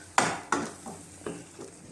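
Tomato paste fries in a pan while a utensil stirs it, giving several sharp knocks and scrapes against the pan over a low sizzle, close by with no voices.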